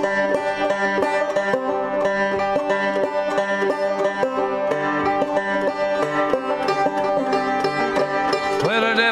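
Music from the play Coal Country about the Upper Big Branch mine disaster: steady strummed acoustic guitar with sustained tonal lines carrying an even, continuous rhythm at moderate loudness, no talking over it.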